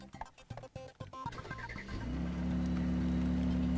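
A Mercedes-AMG GLC 43 Coupe engine starts with a few sharp cranking bursts, then catches and settles into a deep, steady idle rumble, close and fairly loud.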